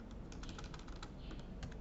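Quiet, steady typing on a computer keyboard while writing HTML code, with rapid irregular key clicks over a constant background hiss and no talking.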